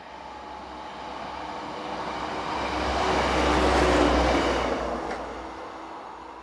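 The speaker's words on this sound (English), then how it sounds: "Every hour you can see Class 648 Lint 41 diesel units on services to and from Templin" A Class 648 Lint 41 diesel multiple unit on a regional line swells from a distance to a steady rumbling pass, then fades away, heard alone without voices.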